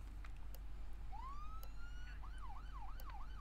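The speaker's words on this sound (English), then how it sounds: "Siren works." A police car siren in the video game Flashing Lights gives a rising whoop, then a quick repeating wail over a low engine hum, faint and with no voices.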